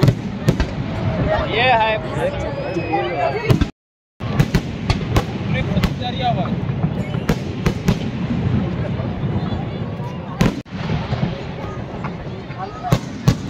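Fireworks at an Indian Army evening show in Nagpur crackle and pop in repeated sharp bursts, with a crowd's chatter and voices running underneath, briefly cut by a moment of silence.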